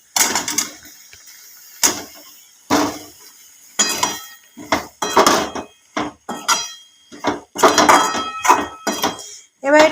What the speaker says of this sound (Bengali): এইবার আমি সবজিটা ঢেলে দেব। এই যে সবজি বয়েল করা আছে,